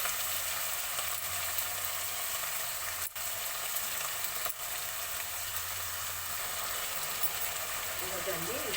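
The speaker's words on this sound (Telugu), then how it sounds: "ఇదండి ఫ్రై అవుతుంది." Coconut rice spices and salt fry in a pan with a steady, close sizzle that runs unbroken, broken only by a couple of brief dips.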